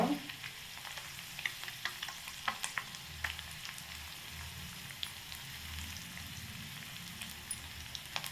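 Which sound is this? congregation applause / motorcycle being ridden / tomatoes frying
tomatoes frying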